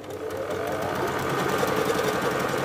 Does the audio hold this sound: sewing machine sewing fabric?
yes